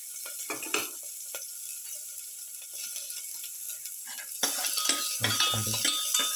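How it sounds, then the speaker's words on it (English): Shallot sautéing in a pan, a low steady sizzle with occasional clinks and scrapes of a utensil stirring, close and moderately loud, getting busier partway through. "Saute."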